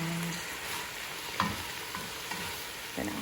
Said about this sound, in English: And then you're gonna stir this up for about 5 minutes,